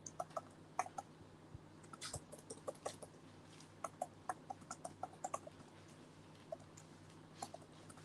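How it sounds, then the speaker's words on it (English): Keys tap on a computer keyboard in soft, irregular bursts of clicks, fairly quiet and close, with brief pauses between runs and a low steady hum underneath. "We should be better at typing by now."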